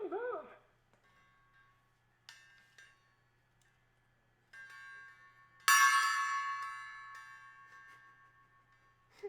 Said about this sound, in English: I could not live without a gong.